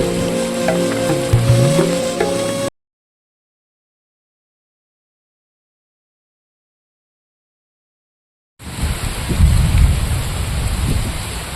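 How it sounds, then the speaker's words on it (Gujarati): Heavy rain pours down in a dense, hissing wash, heard in two loud stretches separated by a long gap of total silence, with faint voices in the first part. "અને વરસાદ તો જોવો"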